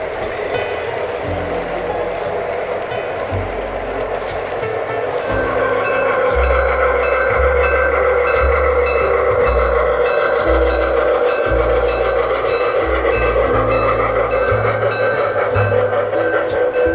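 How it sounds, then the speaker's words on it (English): Model trains run around a model railroad layout at a club in Holly, Michigan, with a low rumbling roll of wheels on track and rhythmic clicking joints, growing louder midway amid faint background hum. "plenty of trains."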